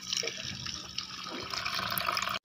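Water pours steadily into a pan for a couple of seconds, a continuous close splashing rush that cuts off abruptly at the end.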